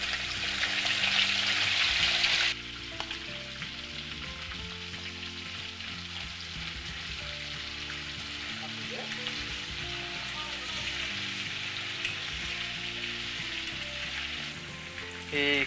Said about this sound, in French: Ensuite, nous frire nos poissons salés dans de l'huile bien chaude.